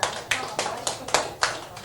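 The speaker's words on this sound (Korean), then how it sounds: "박수 주세요." An audience at a toast-speech session claps in a steady rhythm, about seven sharp, evenly spaced claps at moderate volume, with no other sound standing out.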